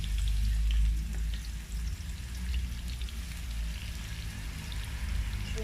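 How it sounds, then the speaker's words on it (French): Onions fry in hot oil after potatoes for a biriani, giving a steady, close, crackling sizzle with a dense patter of popping that lasts the whole time, with no talking. "là on va passer à la friture des oignons"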